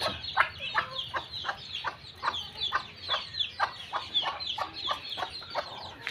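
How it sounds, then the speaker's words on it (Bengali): Domestic chickens cluck steadily while feeding, with a dense run of short, repeated calls from several birds close by and no talk over them. "এইভাবে মুরগিগুলো খাচ্ছে।"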